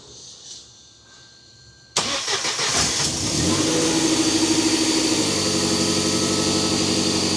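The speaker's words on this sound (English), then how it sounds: "this is a running engine, but it needs more fuel" A Mercedes 190E with a swapped M111 engine cranks and catches after a quiet start, then settles into a loud, close, steady idle with a faint rhythmic pulse. It is fuel-starved and runs on alone without talk.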